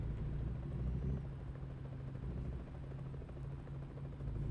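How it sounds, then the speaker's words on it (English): Helicopters flying overhead give a low, steady rotor rumble and drone, moderately distant and continuous throughout. "Are there helicopters?"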